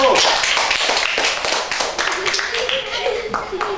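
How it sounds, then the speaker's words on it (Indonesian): Schoolchildren in a classroom clap for a group of classmates, a burst of fairly loud, uneven hand claps close by, with voices talking over the clapping. "Kita beri tepuk tangan dulu untuk kelompok 1."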